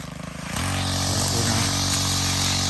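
A black Stihl FS 131 R weed eater runs outdoors, its idle stuttering briefly before revving up into a loud, steady, buzzing high-rpm drone that holds close by to the end.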